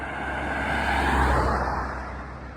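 A car passing along a road near a trail in Monmouth, its tyre and engine noise swelling to a peak and then fading away, heard on its own with no talking.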